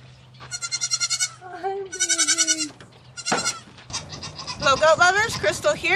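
Goats at a dairy goat farm bleat loudly and close by in several wavering, repeated calls, with overlapping cries building toward the end over a low steady hum.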